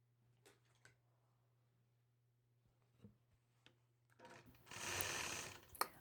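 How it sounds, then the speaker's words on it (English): A sewing machine starts stitching a quilt block after a few quiet clicks and taps, its close, steady whirring run building over the final two seconds against a faint low hum. "Now I'm ready to begin stitching."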